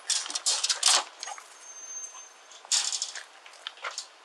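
A dog whimpers and whines outdoors in a few short, high bursts separated by brief pauses, fairly close and moderately loud, with no talking.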